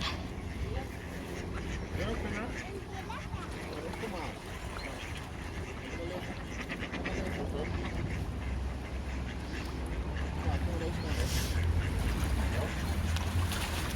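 Ducks quack repeatedly while being fed bread on a cold, rainy day in the Netherlands, with soft rain and people talking throughout.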